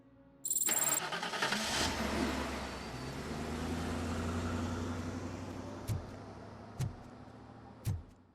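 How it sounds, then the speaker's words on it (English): Iron Duke Camaro muscle car in a video game roaring off loudly after a sharp start, its engine rising then fading into a steady rumble, with a few brief thumps near the end. "He sped away in his mighty Iron Duke Camaro"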